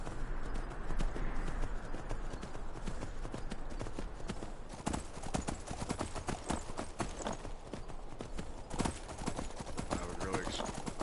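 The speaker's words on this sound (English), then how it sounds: "This is like the 3rd horse I got." Horse hooves gallop steadily in Skyrim, a rapid continuous clip-clop running through the whole stretch beneath game music and someone talking over it.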